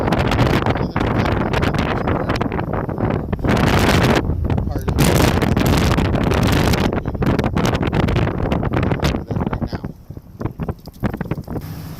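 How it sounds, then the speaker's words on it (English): Strong wind buffets the microphone in loud, roaring gusts that hardly let up, dropping briefly near the end. "it's kind of windy today"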